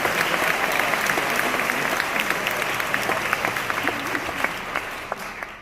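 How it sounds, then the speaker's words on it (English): Sustained audience applause for all-state middle school band students, a dense steady clatter of many hands that continues for several seconds before easing off at the end. "How about one big round of applause for all of our awesome all-state students who are selected."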